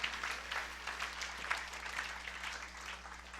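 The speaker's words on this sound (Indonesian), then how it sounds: "Berikan tepuk tangan yang meriah buat Tuhan." A church congregation claps during a sermon, the applause faint and distant, spread evenly over a few seconds with a low steady hum underneath.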